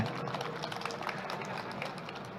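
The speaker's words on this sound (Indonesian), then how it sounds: "ya tepuk tangan boleh lah" Audience at a signing ceremony for a vocational training and job fair partnership between a ministry and a chamber of commerce, giving a brief, fairly quiet round of applause that stays even throughout.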